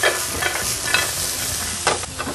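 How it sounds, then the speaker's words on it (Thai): Peanuts, coriander root and garlic stir-fried together in a salted pan, with a close, steady sizzle and quick scraping strokes of a spatula over a couple of seconds. "ถั่วถูกผัดให้รากผักชีกระเทียมถูกผัดด้วยกันให้หอมสักหน่อย"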